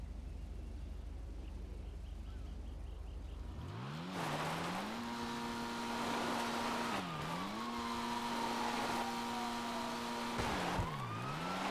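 A car drifting on a four-wheel-drive race track in GTA, with a sudden surge of engine revving and tire squeal whose pitch sweeps and wobbles through repeated slides, loud and close after a quiet start.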